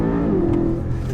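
Sedan engine accelerating and pulling through its gears, a steady loud drone of engine and road noise filling the cabin with a rising tone partway through.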